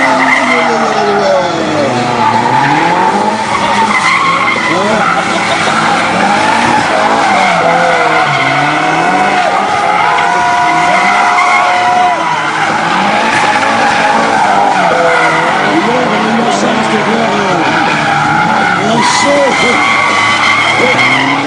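Cars drift at a Paris tuning and drifting show, with continuous loud tire squeal and skidding mixed with revving engines for the whole stretch. An announcer's voice talks over it throughout.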